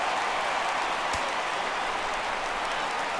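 Stadium crowd in the baseball video game MLB 17 The Show rises on a full 3-2 count, a steady broad roar of cheering and clapping, fairly faint and continuous, with one brief sharp thump partway through.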